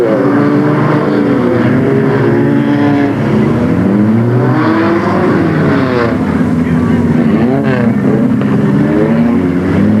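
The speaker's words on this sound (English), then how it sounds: "Just plain old wild racing action here." Race cars roaring around the dirt oval at Delta Speedway in 1996, engines rising and falling in pitch as they slide through the turns, loud and continuous with no gaps.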